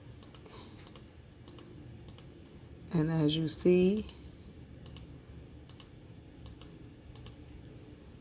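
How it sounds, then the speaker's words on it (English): Mouse clicks from logo-design editing on a computer tick away at a steady pace, crisp and close, with a short burst of a man's speech partway through. "because this is a lot of clicking"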